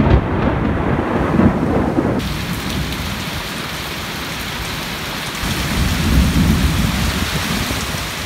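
Heavy rain pours in a loud, steady roar during a night thunderstorm in Ha Giang, with deep rumbling thunder rolling underneath and swelling toward the end.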